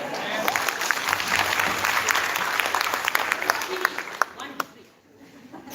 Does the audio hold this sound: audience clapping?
yes